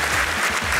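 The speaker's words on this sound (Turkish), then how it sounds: "Alkışlarınızla bakalım." Studio audience applause on a Turkish television quiz show, a dense steady wash of clapping heard alone for under a second, fairly loud and close, with a low hum beneath.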